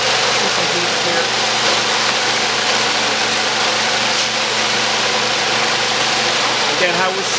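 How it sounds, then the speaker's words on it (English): A vibratory tumbler smooths and deburrs pieces of Connemara marble in a workshop, giving a loud, continuous buzzing hum with a dense rattling hiss that runs steadily throughout. "we put the marble pieces into these, and we vibrate them for maybe up to 24 hours to smooth them"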